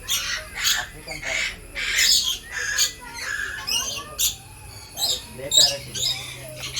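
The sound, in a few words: African grey parrot squawking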